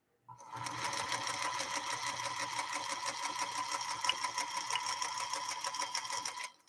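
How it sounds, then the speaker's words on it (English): 1952 Singer Princess sewing machine running steadily with a size 90 quilting needle, a fast, even, mechanical whirring clatter that starts abruptly, holds for about six seconds, then stops. "Give a listen at this little Princess of Singers and see whether or not she can do it again"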